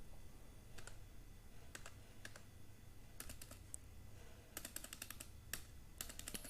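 Typing on a computer keyboard while entering order details in accounting software: quiet, close bursts of key clicks in short clusters, with a few single presses such as the enter key, and no talking.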